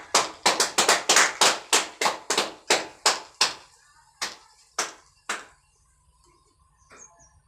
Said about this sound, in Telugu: చప్పట్లు కొడతాం.